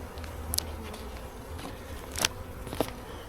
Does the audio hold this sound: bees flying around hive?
yes